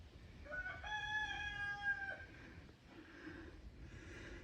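A rooster crows once, clear and fairly close, followed by softer clucking and low farmyard background.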